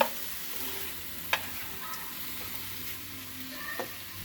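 Meat for a Philly cheesesteak sizzles in a pan with a soft, steady hiss, punctuated by a couple of sharp spatula taps and clicks as it is stirred, heard close and at low volume.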